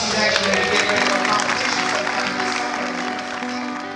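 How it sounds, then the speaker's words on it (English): Audience applause for bodybuilder Dana Linn Bailey at the 2013 Body Power Expo in Birmingham, England: a loud, steady wash of clapping that fades slightly toward the end, with sustained music tones running underneath. "Let's give Dana Lynn Bailey a big round of applause"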